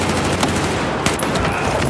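Rapid bursts of automatic gunfire from a Battlefield 4 match fill the moment, loud and dense, with overlapping shots and sharp cracks throughout.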